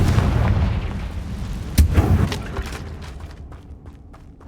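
A Confringo fire spell bursts in Hogwarts Legacy as a sudden booming explosion, preceded by rumbling battle noise and followed by crackling debris that fades out.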